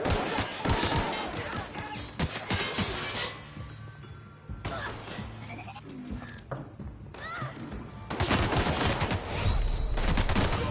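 Bursts of gunfire from The Outer Worlds video game crackle in dense clusters with short lulls between them, loud and close, mixed with other game sounds.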